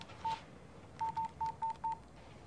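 Telephone keypad tones sound as a number is dialled: one short beep, a pause, then five quick beeps in a row, faint and clean with nothing over them.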